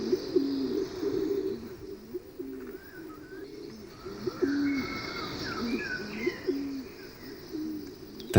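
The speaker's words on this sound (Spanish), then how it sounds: "atraen a la paloma rabiche, una de las aves más interesantes y esquiva de las que habita en la caldera" A Bolle's pigeon (paloma rabiche) gives repeated soft low coos in the forest of La Caldera de Taburiente, with other birds chirping faintly over a steady outdoor hiss.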